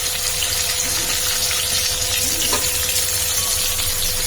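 Onions, cloves, cardamom and cumin fry in hot oil, giving a steady, close, loud sizzle with a faint hum underneath and no pauses.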